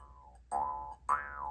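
A Mongolian jew's harp is played against the teeth, giving three twangy, boing-like plucks. Each note slides downward as it rings, and the playing is close and clear with no voices.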